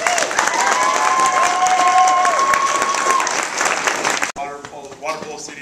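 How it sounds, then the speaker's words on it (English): An audience at a water polo district awards ceremony gives a coach a round of applause, with steady dense clapping filling the room for several seconds before it cuts off and a voice speaks. "So I think Gary deserves at least a round of applause."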